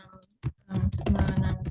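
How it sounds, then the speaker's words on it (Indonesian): Bursts of typing on a computer keyboard while entering a script, a quick isolated click followed by a dense run of close keystrokes. "kita akan mengetik di script"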